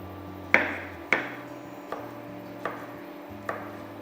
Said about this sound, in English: We'll chop up the garlic fine.